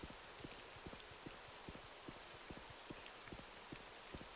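Rain falls in Morrowind multiplayer in daytime, a dense, steady hiss of drops with faint regular soft taps woven through it, low in level and without talk.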